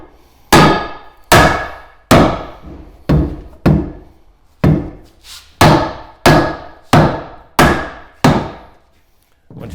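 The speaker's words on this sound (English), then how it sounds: "you're going to have to give it a hit with a hammer" Loud, evenly spaced hammer strikes ring out on a metal hook being driven into a dock, about a dozen hard blows with short decays, close by and with no talking.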